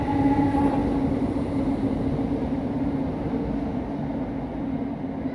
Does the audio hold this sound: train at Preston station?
yes